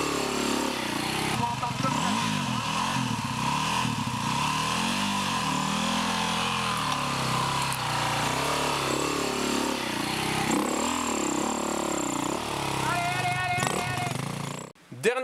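An enduro motorcycle engine revs and idles close by, its pitch rising and falling in uneven surges as the bike is eased forward on rough ground, then cuts out abruptly at the end.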